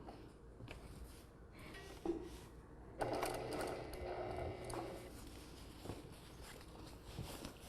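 A sewing machine stitching fabric across a 1/4 seam, a faint close mechanical whir that starts after a few clicks and runs for a couple of seconds, then stops, followed by light handling sounds.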